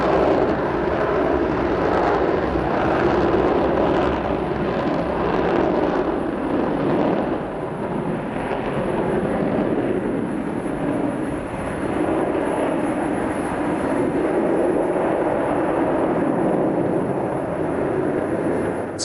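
Concorde supersonic airliner in flight, a loud sustained roar of jet engines that swells and rolls steadily for the whole stretch, with no voices.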